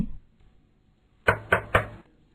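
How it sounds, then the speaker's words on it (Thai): Knocks on a door serve as a sound effect in a bedtime fairy tale. Three crisp, evenly spaced raps come close together, loud and clear against near silence. "เสียงเคาะประตูก็ดังขึ้น"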